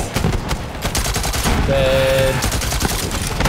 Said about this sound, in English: this pistol is insane